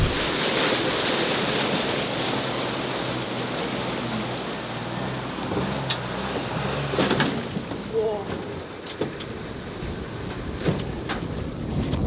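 Steady wind roaring across a remote Alaskan shoreline with surf and tidal water churning beneath, a loud continuous wash with occasional gusts and faint distant voices.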